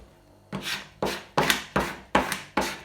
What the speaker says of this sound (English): On your clean area, stick down, you can spatula it down,